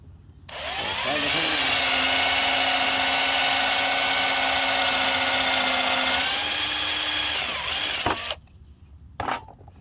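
A power drill countersinks a screw hole in a wooden board, whining loudly and steadily for about eight seconds. It dips slightly in pitch near the end before cutting off, followed by a brief clunk.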